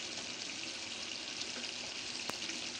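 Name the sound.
liver dish boiling in a pan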